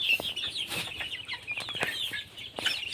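A flock of farm chickens gathered at feeding time, clucking and squawking continuously at close range, with sharp higher calls rising over the steady chatter.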